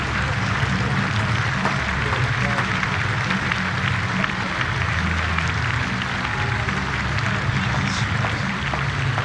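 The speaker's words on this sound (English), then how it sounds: "Listen to the appreciation of this big crowd here at Chelmsford" A big cricket crowd at Chelmsford for a T20 Blast match between Essex and Somerset applauds, a steady roar of clapping mixed with low crowd rumble and broadcast background hum throughout.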